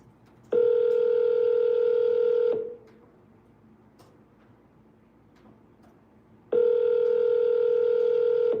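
Telephone dialing tones sound as two long, loud steady beeps separated by a few seconds of quiet background hiss.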